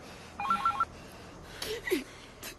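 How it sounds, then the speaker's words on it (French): A telephone rings indoors in a home, two short bursts of trilling bell tone with a pause between, moderately loud, followed by brief fainter noises and no talk. "le téléphone sonne"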